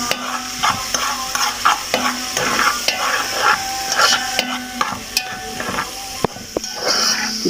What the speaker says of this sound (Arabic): ربع كوبايه زيت مع راس ثوم مبشوره تصفر كده زي ما انتم شايفين